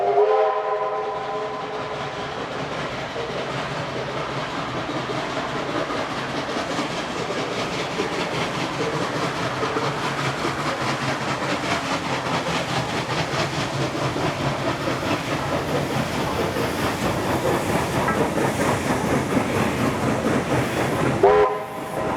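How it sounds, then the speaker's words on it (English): Heritage steam locomotive 6029 pulls into Gosford station, a steady, loud rumble of wheels and chuffing running throughout, with a horn-like whistle tone near the start and a squeal at the end. "6029 is pulling in, ready for its first shuttle service."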